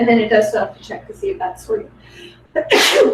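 A person speaks in a steady voice, then a sudden loud sneeze bursts out near the end, close and sharp.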